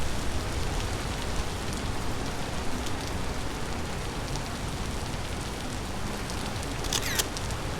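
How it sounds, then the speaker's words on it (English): Steady rain falls in the survival video game Vintage Story, set among lush redwood forests, a dense constant patter with a few brief crackles near the end and no talk. "Look at that beautiful rain."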